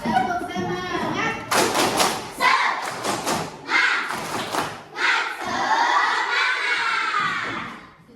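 A class of schoolchildren perform a rhythmic spirit-clapping chant during a Teachers' Day microteaching lesson, with bursts of claps and loud shouted voices that rise and fall over about eight seconds.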